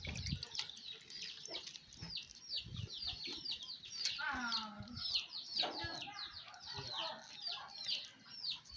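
Chickens cluck and chatter in a farmyard, with busy bird calls running throughout and a few louder squawks near the middle, close and steady against outdoor background noise.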